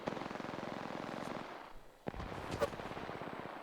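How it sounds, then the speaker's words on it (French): Video game gunfire comes as rapid automatic bursts followed by a pause, then a few sharper single shots, fairly faint and with no talk. "On me tire dessus."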